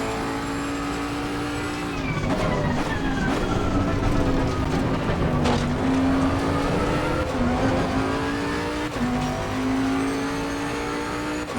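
Bentley GT3 race car at Imola in Assetto Corsa Competizione, engine droning loudly near the listener, rising through gears with shifts and lifts, tire noise beneath, no speech.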